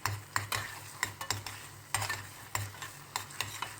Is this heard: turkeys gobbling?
no